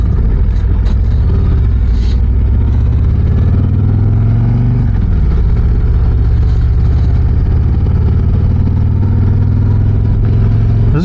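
2025 Harley-Davidson Street Glide Ultra motorcycle engine on a ride, a loud, continuous low rumble with rising and falling throttle, heavy wind and road noise mixed in, no talk.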